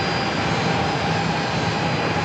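Jet airliner engines roar steadily at San Diego airport as Alaska flights taxi, a broad, continuous rumble-and-hiss held at constant loudness throughout, with no voices.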